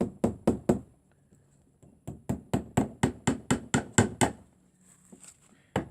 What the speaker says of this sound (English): I take this little nail and this little hammer, and I just put it back in place.